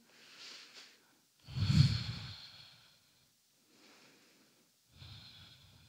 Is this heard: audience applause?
no